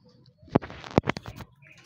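Racing pigeons coming back to the loft after a derby race: a few soft wing flaps and light pattering thumps as birds land nearby, brief and moderately quiet with no talk.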